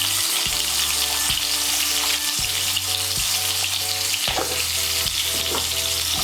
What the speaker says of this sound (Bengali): ওই তেলের মধ্যে আমি আলুগুলো ভেজে নেব।